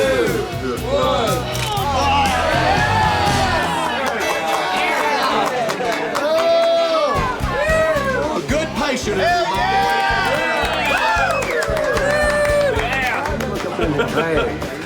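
A crowd at a biker rally pre-start at the Full Throttle Saloon whoops, yells and cheers loudly and continuously, with voices and chatter mixed throughout.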